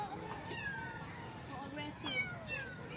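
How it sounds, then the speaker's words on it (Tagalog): Several aggressive cats meow and yowl repeatedly in rising, strained cries, close by, with people talking over them. "Medyo aggressive po yung mga mga pusa."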